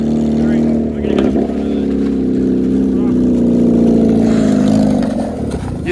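Four-cylinder car engine revving close by, a loud rough drone that swells and dips over several seconds, sustained without a break.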